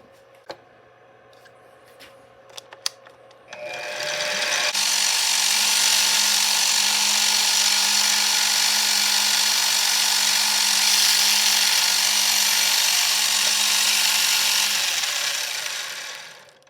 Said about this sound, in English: I'll put the tap size drill bit in there so I can tap the hole.